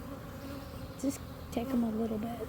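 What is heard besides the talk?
honeybees buzzing around a swarm and hive box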